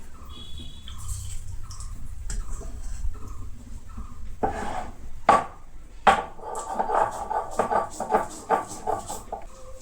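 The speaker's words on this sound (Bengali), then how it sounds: "তো এই মশলাগুলো সবগুলো এবার ধোয়া আছে, সেই জন্য আলাদা করে ধুবো না, ডাইরেক্ট পিষে নেবো।" Washed spices are ground by hand on a shil grinding stone, first as soft scrapes, then as a run of rhythmic grinding and knocking strokes close by.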